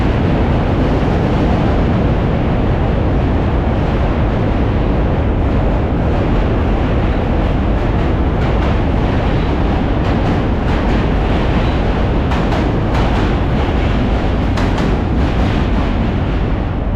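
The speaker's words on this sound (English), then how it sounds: "Another train." A subway train rumbling across the Manhattan Bridge in New York City, a loud, continuous heavy roar with clattering wheel and track noise throughout, heard close from the walkway with no talking.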